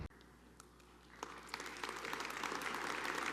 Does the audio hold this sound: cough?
no